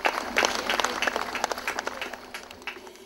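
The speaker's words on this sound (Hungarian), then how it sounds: "Egy nagy tapsot tegyünk meg" At a ten-day summer festival, a crowd applauds in a dense patter of scattered claps that thins toward the end, moderately loud with no talk over it.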